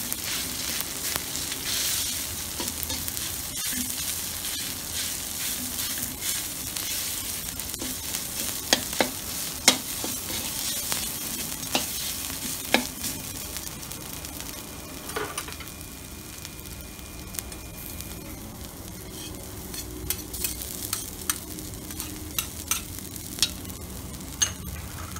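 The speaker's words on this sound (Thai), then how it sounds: "ผัดให้เข้ากัน" Pork neck and red curry paste are stir-fried in a hot pan, giving a steady close sizzle and frying hiss with scattered scraping clicks as the spatula turns the mixture.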